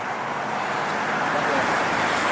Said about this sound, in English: Right, wait, there's cars.